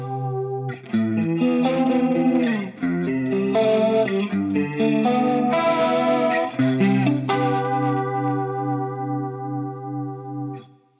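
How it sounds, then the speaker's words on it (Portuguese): Electric guitar through a Collateral FX Demoiselle chorus pedal set to heavy chorus with high speed and depth, ringing out sustained chords with a lush, swirling warble, loud and alone, with no talk. "Bastante chorus, com bastante velocidade e profundidade"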